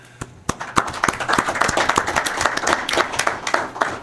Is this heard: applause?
yes